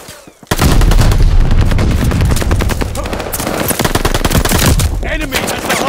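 Rapid, loud automatic gunfire from the Call of Duty: Vanguard video game roars almost without a break, a dense stream of shots layered over booming blasts.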